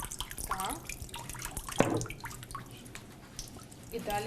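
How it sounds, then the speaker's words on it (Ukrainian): Water drains and drips from a paper-making frame during a handmade paper demonstration at a castle museum, trickling and splashing steadily while a voice talks over it. "Чекаємо, доки збіжить вода, знімаємо верхню рамку."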